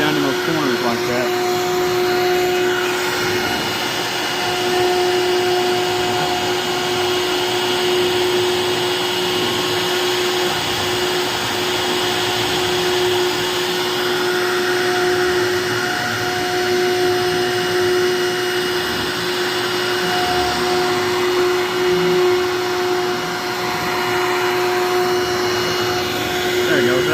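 Onefinity CNC router bit cutting a rough cut, a steady loud whine with a sustained tonal hum running unbroken throughout, like a vacuum-style drone with faint machine overtones.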